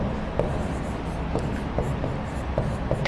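A marker or chalk scratches across a classroom board during a maths lesson on triangles, a string of short strokes and taps spaced irregularly over a soft background hiss.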